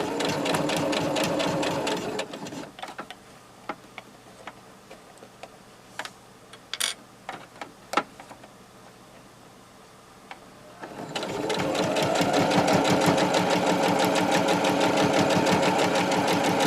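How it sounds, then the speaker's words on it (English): A sewing machine stitches fabric pieces for a face mask: a fast, loud, rhythmic whir runs for about two seconds, then light clicks and handling sounds follow, and the steady stitching resumes near the end. "that will stitch the two pieces in between"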